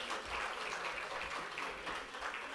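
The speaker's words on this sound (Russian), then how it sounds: "Пожалуйста, ваши аплодисменты." An audience at an award ceremony for an anniversary of a folk arts centre applauds continuously, a dense, even wash of many hands clapping throughout with no voices standing out.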